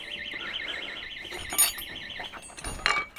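An electronic alarm wails in a rapid warbling two-tone pattern, moderately loud and steady, with some clattering and knocks toward the end.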